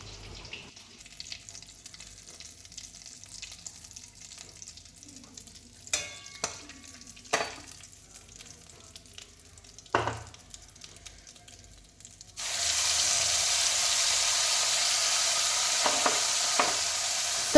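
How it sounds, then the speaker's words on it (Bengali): Whole spices (cardamom, clove, cinnamon, bay leaf and a little cumin) drop into hot oil and a steady, loud sizzle takes over from about halfway, after quieter stirring clatter and a few knocks. "এইবার ওই তেলের মধ্যে দিয়ে দেবো এলাচ, লবঙ্গ, দারচিনি, তেজপাতা এবং একটুখানি জিরে"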